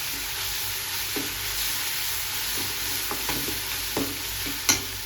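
Onion and tomato with salt sizzle steadily in a pan, with occasional clicks and scrapes from stirring, the loudest near the end.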